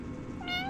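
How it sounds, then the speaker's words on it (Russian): A single short, cute cat meow from the Five Nights with Froggy 2 video game, rising clearly over a low background hum and ending within a second. "На картину можешь нажимать. Это мяуканье милых кошечек."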